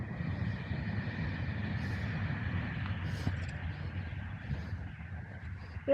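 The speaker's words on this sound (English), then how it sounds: "Train." A train rumbles past near a canal towpath, a steady low roar with rattling that holds throughout, heard from close by while cycling outdoors.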